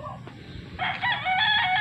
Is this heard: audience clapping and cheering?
no